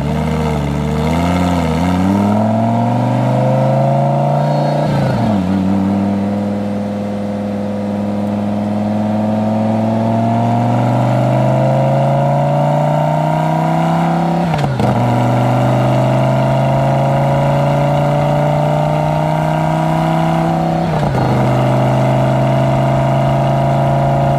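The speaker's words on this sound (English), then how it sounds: "Because we got all-wheel drive, we can hear a lot of transmission noise." A Lamborghini Gallardo Superleggera with all-wheel drive, heard from inside while driving, with loud engine drone and transmission whine rising steadily through several gear changes.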